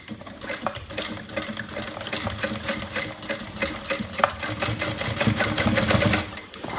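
A sewing machine runs steadily, stitching a narrow 1/8-inch seam across a fabric bag, its motor whir and rapid needle rattle continuous and close.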